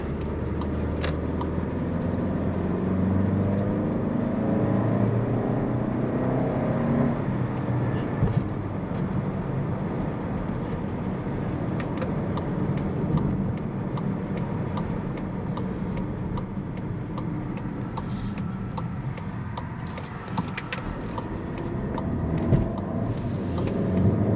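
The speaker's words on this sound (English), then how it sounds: "Noticeable turbo lag coming out of that corner." A Volkswagen Tiguan SEL R-Line with a turbocharged engine drives along, its engine drone and road rumble holding steady and close throughout, with a light rise near the end.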